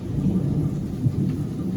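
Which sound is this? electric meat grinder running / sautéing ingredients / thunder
thunder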